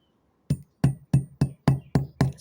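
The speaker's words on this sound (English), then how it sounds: "Try and get it as flat as possible with a softer hammer." A soft hammer strikes braided copper wire seven times at an even pace, each blow a close, solid thud with a brief ring, separated by short silences.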